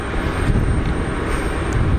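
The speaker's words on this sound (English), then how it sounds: "I do love a bit of prop noise." A propeller plane with a 350 horsepower flat-six engine drones loudly and steadily at an airport, a continuous broadband engine roar with no talk over it.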